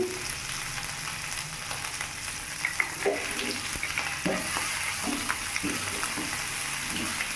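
Chopped ginger and green chilli fry in a pan, with a steady soft sizzle and several sharp scraping knocks from a spatula stirring, close by.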